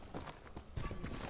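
Horse hooves clip-clopping in the video game Ghost of Tsushima, a few quick, soft thuds from a horse approaching at close range, quiet with slight ambient noise and no talk.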